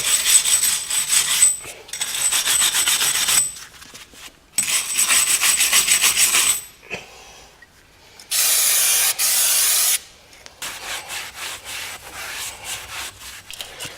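Car brake parts on a Golf Touran get cleaned in loud bursts of spray and scrubbing, several separate passes of a few seconds each with short pauses between, up close with no talk.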